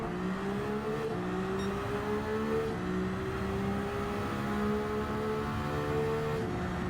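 Ferrari Vision Gran Turismo V6 engine in Gran Turismo 7 at the Nürburgring, a steady high engine drone holding a sustained note throughout with slight pitch swells as it revs, loud and continuous with no talk.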